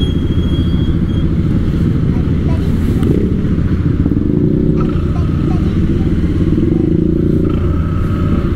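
Rouser NS 200 motorcycle ridden through traffic near Bicutan in Taguig City, its loud, steady engine drone and road rumble continuing throughout with wind buffeting and no speech.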